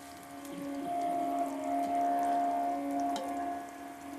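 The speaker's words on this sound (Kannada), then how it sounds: "ಈಗ ಇದಕ್ಕೆ ಹುಣಸೆ ಹಣ್ಣಿನ ನೀರನ್ನ ಹಾಕೋಬೇಕು." Tamarind water hits a hot pan while cooking appe huli, giving a steady sizzling hiss with a faint tonal ring that swells and holds for a few seconds at moderate, close volume, with no voices.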